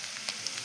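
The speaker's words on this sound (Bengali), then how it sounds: "তেলটা গরম হয়েছে, তেল দিয়ে দিই। পেঁয়াজটা ভাজা ভাজা হয়েছে" Chopped onions fry in hot oil with a brief, soft, crackling sizzle and a few faint pops, heard alone.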